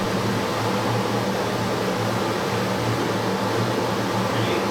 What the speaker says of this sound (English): Here I'm taking a pinch of some very fine MDF sawdust and showing how it gets sucked in to the vacuum.